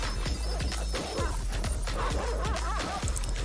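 Dogs barking in a video game, a string of loud, sharp barks repeating quickly and densely through the scene over heavy background game noise and clatter.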